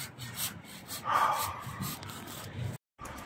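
A large tree being cut with a hand saw outdoors, giving repeated rasping strokes of the blade through wood with a brief silent gap near the end.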